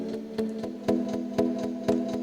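Muted guitar notes chopped into short rhythmic chord stabs, repeating in an even pulse with soft sustained tones underneath, moderately quiet and without any voices.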